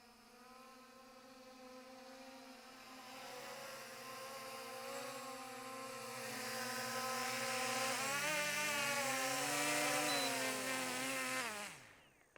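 A drone's high buzzing whine holds steady, then rises in pitch and loudness as it flies closer over a fishing spot before cutting off abruptly.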